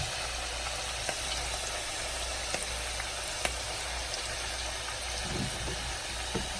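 Eggs frying in hot oil in a 100-year-old iron skillet: a steady, even sizzle with faint scattered pops and crackles, close and moderately quiet, no voices.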